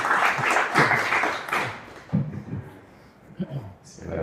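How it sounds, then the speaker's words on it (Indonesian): Applause from an audience at a talk swells loudly at first, then thins into scattered claps as a voice begins speaking over the fading clapping. "Kurang meriah tepuk tangan."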